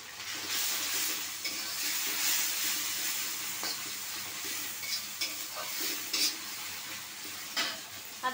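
Ginger and garlic paste sizzles in a pan for a chicken and chana dal bhuna, a steady frying hiss broken by scattered spoon scrapes and light pan clinks throughout.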